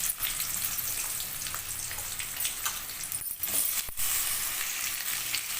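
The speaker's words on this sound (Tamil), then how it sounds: "நல்லா கட் பண்ணி வச்ச வெங்காயத்தை ஆட் பண்ணுறோம்" Chopped onions hit hot oil with popped mustard seeds for a vazhakkai fry, giving a steady, close, broadband sizzle with a few stirring scrapes and brief dips.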